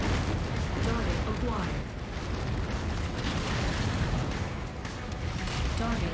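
Gauss rifle fire in the mech combat game Mechwarrior 5 Mercenaries, heard as a dense, continuous wall of loud booming blasts and rumbling explosions with no clear pauses, and a voice faintly present in the mix.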